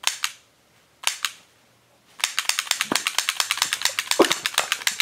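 A toy gun snaps out two single sharp clicks about a second apart, then a rapid, even run of dry clicking shots, close and crisp, with no voices.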